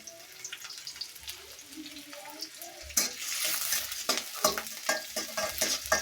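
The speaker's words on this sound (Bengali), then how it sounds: "পেঁয়াজ কুচি দিয়ে দিলাম, অল্প করে ভাজি করবো" Chopped onion frying in oil for a chickpea dish in a village kitchen: quiet at first, then a loud sizzle erupts, pulsing with a series of stirring strokes.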